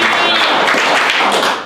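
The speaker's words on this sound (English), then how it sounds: "Let's clap our hands to God" A church homegroup congregation claps hands in praise to God, a loud, dense burst of many hands clapping together close by, filling the short moment before it cuts off abruptly.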